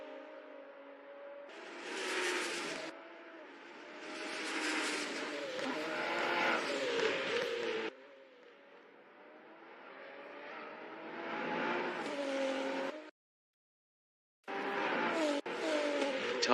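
Race cars in a virtual racing video game, engines revving and whining through gear changes in loud sustained passes, briefly cutting out to silence before the engine noise returns.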